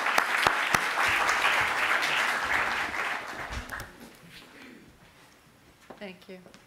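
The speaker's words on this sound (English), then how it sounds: "Let's give her a round of applause." An audience at a statewide hearing on school discipline in California claps in loud, sustained applause for about four seconds, then it dies away and a voice begins speaking.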